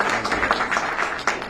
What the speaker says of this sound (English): can we give a round of applause to Deo